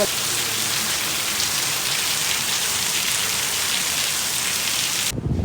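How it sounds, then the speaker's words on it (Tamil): Heavy rain pours in Secunderabad in a dense, steady hiss of downpour with no pauses, then stops abruptly just before the end. "பார்த்தா ஒரே மழை."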